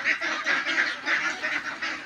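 Domestic ducks in a muddy home yard honk and quack in a steady string of calls, about six bursts in two seconds, fairly close with no talk.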